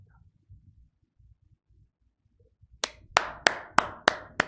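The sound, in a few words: hands clapping in joy during a sermon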